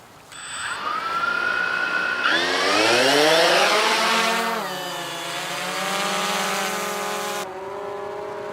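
A small drone flies close by, its motors giving a loud buzzing whine that climbs and dips in pitch as it manoeuvres, then settles into a steadier hum, with no voices.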